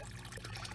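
Pond water gurgles and trickles steadily into buckets being refilled while fish are moved during pond winterizing, a faint continuous pouring with no voices.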